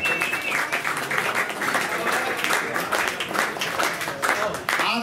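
A live show audience bursts into sustained applause, dense overlapping clapping that stays loud and steady throughout, with some crowd voices mixed in.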